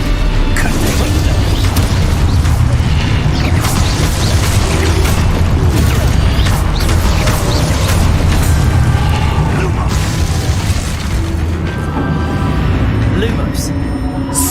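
A Confringo spell blast in Hogwarts Legacy erupts amid dense combat noise, loud continuous rumbling booms and crackling impacts layered with mechanical clatter, with voices shouting over the fight.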